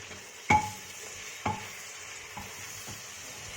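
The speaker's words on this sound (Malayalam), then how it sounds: "ഇതിലേക്ക് വളരെ തിന്നായിട്ട് അരിഞ്ഞു വെച്ചേക്കുന്ന സവാള ആഡ് ചെയ്ത് കൊടുക്കുക" Thinly sliced onions fry with salt in a pan, giving a steady sizzle throughout, while a spoon strikes the pan sharply twice and then gives a fainter stir.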